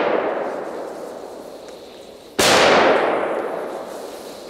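A single loud blast from a strong Polish market firecracker cracks outdoors after a fading earlier echo, its sharp onset followed by a long reverberating tail.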